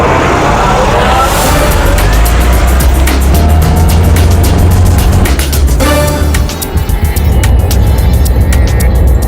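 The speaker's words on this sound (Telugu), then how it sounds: "ట్యాక్సీ వస్తోంది. ట్యాక్సీ వెనకాలే వెళ్ళు." A taxi drives past in city traffic during a car chase, its engine a loud, steady rumble that swells and fades over the other passing vehicles with no one speaking.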